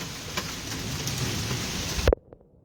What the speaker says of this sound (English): We need the rain.